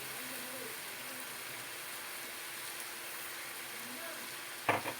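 Rice frying in ghee in a pot, a steady soft sizzle throughout with faint stirring, ending in a brief clatter near the close.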